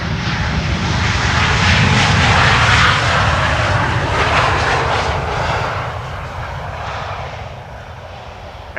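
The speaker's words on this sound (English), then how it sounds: "Air Transat briefly making use of the reversers." An Air Transat A321neo arriving from Toronto lands at Amsterdam Schiphol in a crosswind, its engines building to a loud, broad roar as the thrust reversers briefly open, then easing off as it slows.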